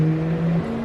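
A GT1 race car engine drones steadily at high revs at Laguna Seca in the racing game Automobilista 2, with a brief pitch shift partway through the short burst.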